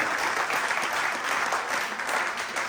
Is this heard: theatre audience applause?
yes